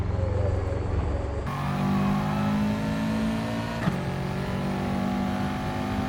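A race car in Gran Turismo Sport accelerates out of a corner on the Dragon Trail Gardens circuit, its engine note climbing steadily and droning loudly with a brief gear-shift break midway.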